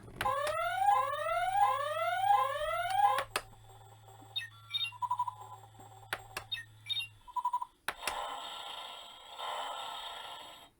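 Electronic sound effects from a Spin Master Batmobile toy from The Batman (2022): rising synthetic sweeps, a low hum, then assorted beeps, blips and bursts of buzzy noise, loud and close.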